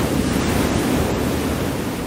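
Steady broadband rush of surf and waves rolling onto a beach, constant and fairly loud with no clear breaks, mixed with a windy hiss.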